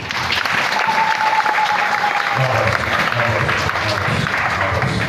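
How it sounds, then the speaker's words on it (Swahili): A church congregation bursts into loud, sustained clapping for Jesus, a dense wash of applause with a few voices rising within it. "Makofi sana kwa Yesu."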